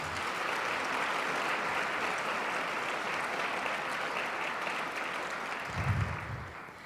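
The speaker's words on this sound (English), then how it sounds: "please join me in a round of thanks and applause for these wonderful women" At a women's luncheon a large crowd applauds in a dense, sustained roar of clapping that holds steady, with a brief low thump near the end as it begins to taper.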